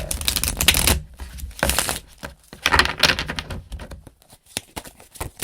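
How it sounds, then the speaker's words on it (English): Tarot cards shuffled by hand in bursts of crisp riffling and slapping, three main runs separated by short pauses and followed by softer taps, close and fairly loud with no talking. "I'm going to shuffle one more time"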